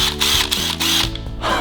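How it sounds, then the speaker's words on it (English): A cordless drill whirs in short steady bursts, near and loud, with brief pauses between the runs. "This is a cordless drill."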